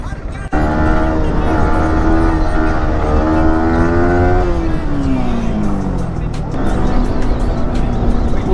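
Loud motorcycle fitted with an aftermarket exhaust riding through traffic, its engine note sweeping up and down in pitch as it revs and shifts, close and dominant with a sharp start after a brief pause.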